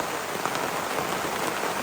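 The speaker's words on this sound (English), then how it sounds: "so it is really starting to rain out now." Steady rain falls outdoors in a dense, even patter of drops on surfaces, continuous and fairly close with no voices or other sounds over it.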